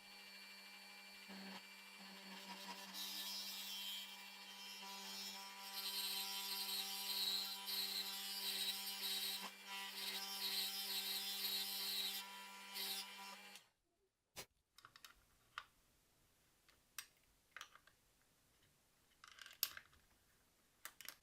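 A hand tool cuts a roughly 9 mm port hole into a small plastic box for a USB Type-C charge controller. A steady, loud whirring grind runs for about 13 seconds, then stops, followed by quiet scattered clicks and handling taps.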